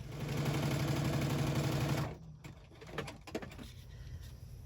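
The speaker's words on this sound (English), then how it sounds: "I just made one straight stitch down the center of this" A sewing machine runs a straight stitch through fabric in a steady close whirring burst, then stops and leaves quiet fabric handling and soft clicks.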